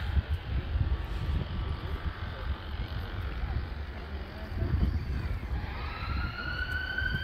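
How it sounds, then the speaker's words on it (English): Ambulance sirens wail through Edinburgh streets around Calton Hill, rising and falling tones emerging over steady traffic rumble and growing clearer toward the end, with some talk nearby. "Enough of noise there with the ambulances"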